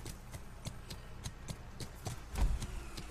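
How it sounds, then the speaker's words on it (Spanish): Horse hooves clip-clop in the video game Drakensang Online, a steady, even rhythm of light knocks about three per second, moderately faint over a low background hum. "Tío, el sonido de lo del caballo"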